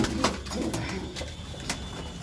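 Pigeons coo softly in several short bursts while being fed grain, close by against a quiet background.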